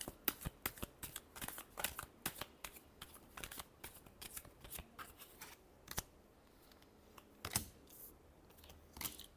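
Tarot cards are shuffled close by, quiet riffling snaps and taps in irregular quick bursts with brief gaps, no voices.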